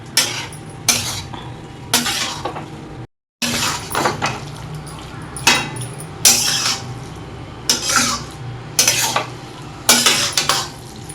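A spoon scrapes and stirs paneer curry with kasuri methi in a pan, in repeated close strokes with a faint sizzle beneath and a brief pause midway.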